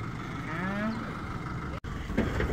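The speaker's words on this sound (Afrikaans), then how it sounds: "Die beeste is op pad veiling toe." Cattle on the way to auction give a drawn-out moo, clear and fairly close, over a steady background rumble, followed by a brief dropout and some scuffling.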